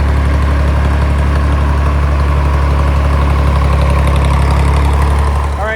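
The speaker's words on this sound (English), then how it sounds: "So let's get the tractor over here." A vintage tractor engine idles steadily and loudly up close on a farm, a deep, even rumble with a faint knocking throb that holds for several seconds alone.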